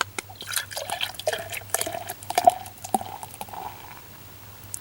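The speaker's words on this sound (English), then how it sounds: "We'll just pour it all off in there at once." Daura Damm beer, a 5.4% lager from Barcelona, is poured all at once into a glass, with close liquid splashing and gurgling that trails off into a soft fizz.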